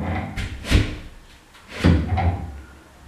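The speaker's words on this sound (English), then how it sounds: "The door is just like I say, it's a pivot door." A pivot door in a newly finished downstairs bathroom is swung and knocked twice, with two distinct thuds and swishes about a second apart, heard close up without talk.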